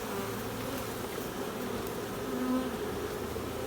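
A honey bee swarm being caught outdoors fills the air with a dense, steady buzzing from many bees close by, holding at an even, loud level throughout with no voices.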